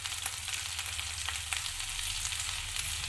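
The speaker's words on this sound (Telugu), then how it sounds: "అల్లం పేస్ట్ వేసుకొని బాగా ఫ్రై చేసుకోవాలి పచ్చివాసన పోయే వరకు." Onions and ginger paste frying in a couple of spoons of oil for an Indian-style pasta, a steady close sizzle with faint stirring clicks, no voices.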